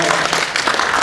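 Audience applause at a Melbourne VMUG user group meeting, a brief, loud wash of clapping that holds steady from start to finish.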